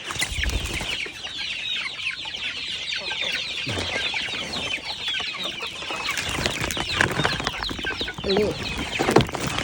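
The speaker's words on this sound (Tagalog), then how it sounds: "Ayan, may sisiw dyan na nakahiwalay." Backyard chickens and chicks clucking and peeping continuously, close by, with a person's voice speaking intermittently among them.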